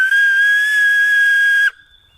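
An acorn cap whistle blown between the thumbs gives one loud, shrill, sustained note that holds steady for nearly two seconds and then stops sharply. No one talks over it.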